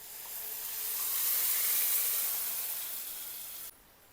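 Cooked dal tipped into a hot pan with tomato and chilli, giving a steady broad sizzle and hiss that swells then settles, close and fairly quiet, ending with a brief clatter.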